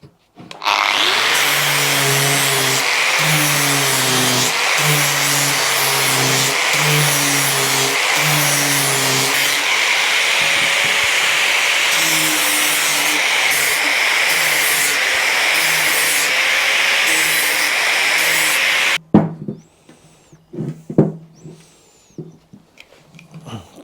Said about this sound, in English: So we'll grind the shape into that first.